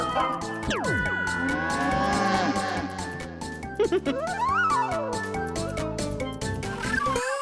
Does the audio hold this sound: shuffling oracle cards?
no